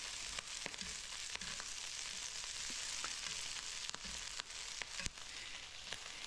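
Mizuna greens are stirred into sweet and sour naenae fish frying in a pan outdoors off-grid on the Big Island, giving a loud steady sizzle with repeated scraping clicks from the utensil.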